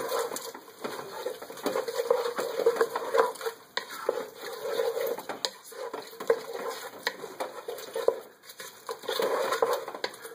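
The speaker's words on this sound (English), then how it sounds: "And we'll give that a good stir." A spoon stirring a thick baked venison stew mixture in a pot, repeated close scraping and wet squelching strokes in irregular bursts with short pauses, no speech.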